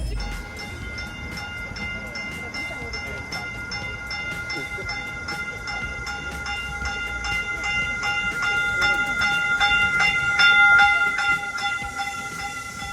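Caltrain passenger train at a station after a concert, a steady rumbling rail roar with bright, sustained squealing tones building louder toward the end, crowd voices murmuring underneath.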